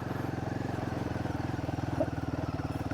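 A Royal Enfield Himalayan motorcycle rides over gravel, its single-cylinder engine thumping in a fast, even pulse up close, with faint crunching underneath.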